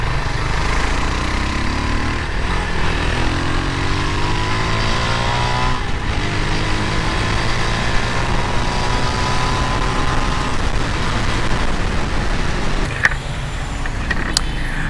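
A Rusi Classic 250i motorcycle engine runs steadily nearby, a smooth continuous idle hum with slight shifts in pitch and no talking.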